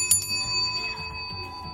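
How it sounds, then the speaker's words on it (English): A thick vintage-style bicycle bell is rung close up, a sharp metallic strike followed by a sustained, shimmering ring that decays slowly, with a couple of lighter taps underneath. "This is a new version of an old bell."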